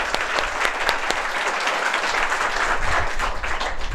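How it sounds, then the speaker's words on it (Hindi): A studio audience at a KBG quiz show claps loudly for the contestant in the hot seat, a dense, continuous burst of applause with sharp individual claps standing out. "जोरदार ताली हो जाए अनुराधा के लिए।"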